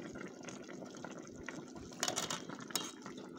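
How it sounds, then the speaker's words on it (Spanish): Chicken birria broth bubbling in a pot, a quiet steady simmer with soft popping bubbles and a few sharper spatters near the end. "ahí se ve claramente que está hierve y hierve"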